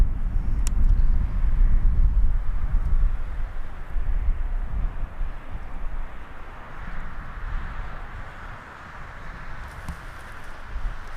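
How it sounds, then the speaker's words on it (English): Low, steady jet engine rumble of an SAS airliner taxiing onto the runway at Birmingham Airport, heard from a distance with wind buffeting the microphone throughout. "the SAS is making its way onto the runway"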